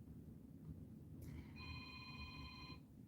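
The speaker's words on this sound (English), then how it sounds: "There's a phone ringing, which I don't want to answer right now." A telephone rings indoors, a single electronic trill lasting over a second, moderately loud over a low steady rumble of room noise, with no voices.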